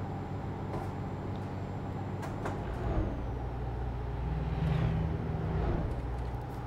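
A heavy truck from Euro Truck Simulator 2 drives steadily in-game, its engine a constant low drone that swells slightly near the end, with a brief hiss and no talking.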